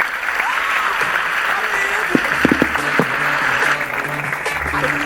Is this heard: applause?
yes